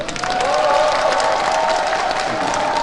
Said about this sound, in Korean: 오늘 축하를 해주시는 큰 박수로 환영해 주시기 바랍니다